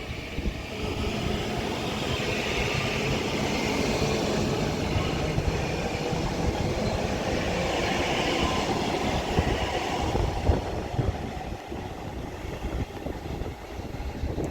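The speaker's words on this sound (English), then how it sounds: "Now departing is going to be the 1549 Northern service to Liverpool Lime Street from Blackpool North, which is 331-109." Northern Class 331 electric unit 331-109 pulling out of Wigan North Western station on the West Coast Main Line, with a steady, close rumble of wheels and motor hum that fades slightly toward the end.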